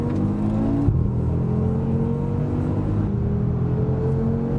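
A 520 bhp Audi RS3 race car engine on track, a loud continuous droning engine note with rising and falling pitch as it accelerates and shifts, heard steadily from close by without speech.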